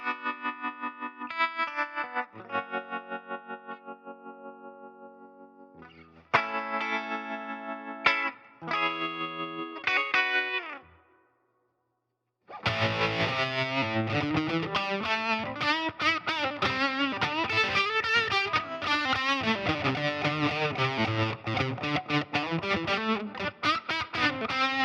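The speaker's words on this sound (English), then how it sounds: "if we bring up the intensity a little bit more, we kind of get into a Leslie sound" Electric guitar played through a Kmise tremolo pedal with the intensity raised toward a Leslie-like swirl: sparse chords and single notes at first, then after a brief silence a steady, loud, warbling strummed passage with pulsing, rotating modulation.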